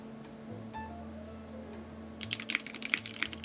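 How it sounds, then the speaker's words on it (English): Quick, uneven clicks of keys being typed on a 7V mechanical keyboard start up partway through, crisp and close, over a steady low hum. "Here, let's do another typing test."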